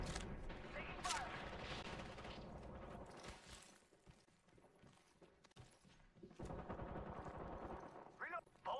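Loud bursts of gunfire in the Apex Legends battle royale video game, with rapid automatic fire and scattered shots, dense and close at the start, thinning out in the middle, then picking up again toward the end.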